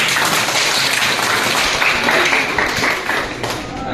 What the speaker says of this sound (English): So, a big applause for all of you.